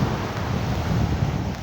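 Strong wind on Great Yarmouth beach roaring across the microphone in a constant heavy rumble, with surf washing underneath and no talking.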